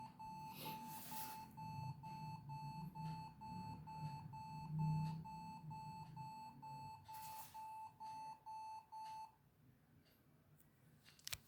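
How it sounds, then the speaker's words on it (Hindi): A computer BIOS beeps in a fast, evenly spaced run of short electronic tones over a low hum, then falls silent near the end. "अभी बीप साउंड को पहले जाने देते हैं"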